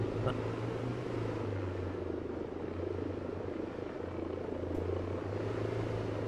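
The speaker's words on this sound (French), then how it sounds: "l'hélico, il est bien au-dessus de nous" A helicopter hovers overhead in the military video game Arma 3, its rotor and engine producing a continuous low, throbbing drone that stays steady and fairly loud throughout, with no speech.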